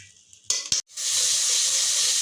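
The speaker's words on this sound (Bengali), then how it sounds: "এটা সুন্দর করে এখন কষিয়ে নিচ্ছি" Masala sautés in a pan for a pangas fish recipe: two quick clattering stirs, then a loud, steady sizzle and frying hiss that carries on alone.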